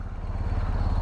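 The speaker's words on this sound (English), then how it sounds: "I like the sound of the Boxer" BMW R 1250 GS Adventure boxer-twin motorcycle engine running close by, a loud, steady low-pitched throb with even firing pulses over about a second.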